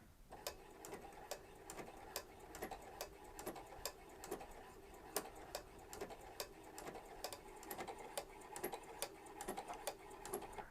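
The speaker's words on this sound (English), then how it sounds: "And then we're going to start sewing again." A sewing machine stitches with a petal foot, its needle tapping in a fast, even rhythm of regular clicks, quiet and close with no voices.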